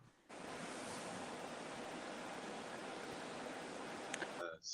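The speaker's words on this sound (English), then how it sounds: "No, you're hearing a Subaru." A Subaru car gives off a steady, broadband whoosh like ocean surf, continuous and fairly even in level for several seconds before cutting off.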